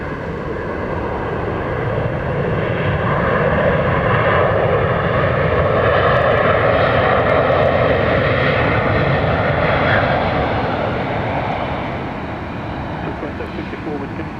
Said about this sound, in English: Looks like it's getting ready to take off.